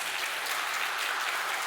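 Dense, continuous clapping from a church congregation during a Sunday service, steady and fairly loud throughout with no talking.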